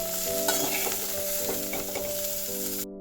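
Cauliflower florets fry steadily in hot oil in a pan, a dense close sizzle with faint stirring scrapes running under it for about three seconds before cutting off abruptly.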